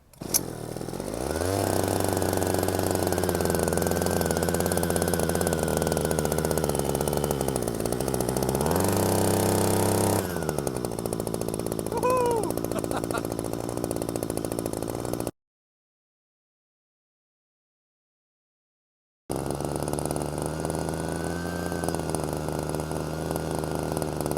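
A knocking two-stroke hedge trimmer engine revs loud and steady at a high idle, pitch dipping and rising, then cuts off completely for a few seconds before running again near and alone.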